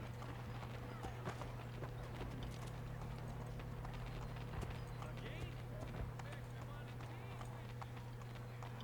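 Rhythmic clip-clop of horse hooves at a steady trotting pace in Assassin's Creed III, close and continuous over a low constant hum, with scattered voices in the background.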